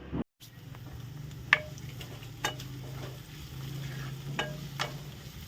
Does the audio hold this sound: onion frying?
yes